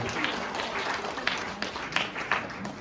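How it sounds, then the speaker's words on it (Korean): Wedding guests at a Korean ceremony without an officiant clap for both mothers of the couple, who wear hanbok. The applause is moderate and continuous, with a few sharper claps standing out, and a voice is faintly present. "다시 한번 수고해주신 우리 양가 어머님들께 박수 보내주시면 감사하겠습니다"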